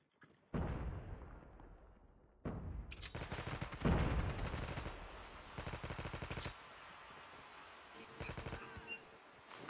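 Automatic gunfire from the Zero shooter video game, a duo-versus-squads match, with several bursts of rapid shots and a couple of blasts, loud and close, spread over nearly ten seconds.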